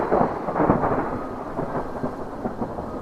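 Steady heavy rain and a deep, rolling thunder rumble in the Himachal valleys, loud and continuous with no voices.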